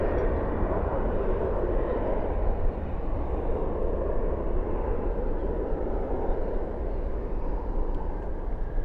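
An American Airlines Boeing 777-200ER departing at night, a steady, heavy jet engine roar rumbling at a distance and holding level throughout.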